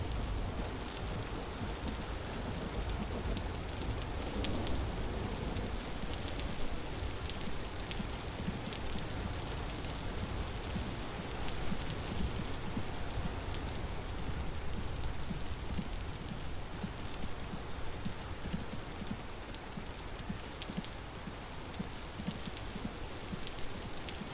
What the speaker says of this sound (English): you can hear the rain pitter-pattering on the leaves